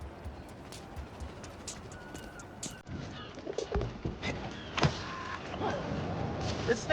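Pigeons in New York City in the Spider-Man 2 video game, soft cooing and wing flutters over busy ambient street noise.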